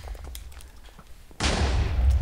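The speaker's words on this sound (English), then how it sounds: "That's a good cannon." A cannon explodes in Minecraft: after a quiet stretch of faint clicks, a sudden loud boom bursts in and keeps rumbling heavily to the end.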